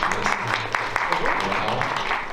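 Audience applause welcoming a speaker onto the stage at a hotel-industry event, a steady wash of clapping hands with talk continuing over it.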